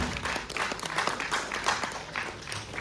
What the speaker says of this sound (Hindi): तालियां बजती है भाई, ताली ताली प्लीज।